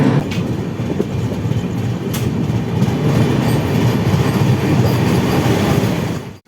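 A passenger express train rolls along the rails in India, its steady loud rumble carrying a continuous clickety-clack of wheels over the track joints, with no talk, before the sound cuts off abruptly at the end.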